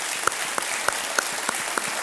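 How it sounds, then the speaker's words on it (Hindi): A TV quiz-show studio audience applauds in a steady, even wash of clapping, with a few sharper claps standing out at regular intervals. "एक बार फिर तालियों के साथ हम आपका स्वागत करते हैं"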